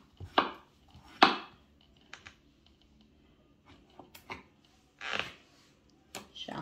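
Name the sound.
knife chopping cantaloupe melon into small cubes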